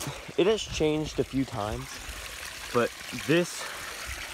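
Backyard koi pond waterfall spilling over a flat rock, a steady trickling flow running beneath close conversational speech.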